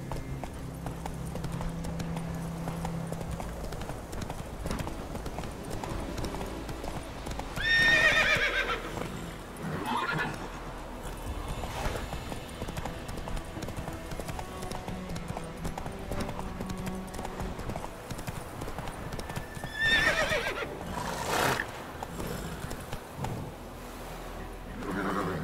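Roach, the horse in The Witcher 3: Wild Hunt, gallops with steady rhythmic hoof clip-clops on the ground, and two shrill neighs break in around the middle and later, over faint game ambience.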